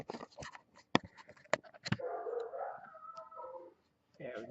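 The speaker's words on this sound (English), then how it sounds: "Doggies are getting mad. They're barking at something." Dogs barking and yelping near a home garden in short sharp bursts, followed by a longer whining howl, at moderate distance and fairly quiet.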